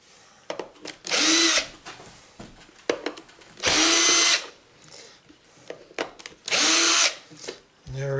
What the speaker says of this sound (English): I'm going to use the power screwdriver just to speed things along a little bit